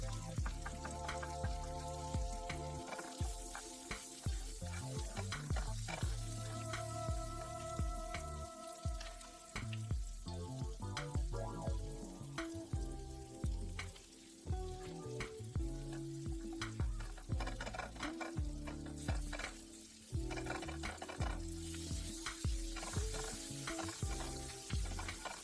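Butter and heavy cream cooking in a pan at medium-low heat, a soft continuous bubbling sizzle with faint stirring, low in level throughout; no talk.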